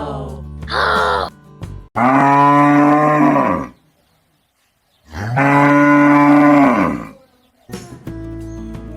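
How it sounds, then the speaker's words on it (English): A cow gives two long, loud, deep moos separated by a silent pause, with short spoken bits at the start and end. "This is a cow."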